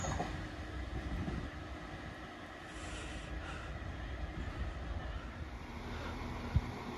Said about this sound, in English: Right, here comes my train out of here.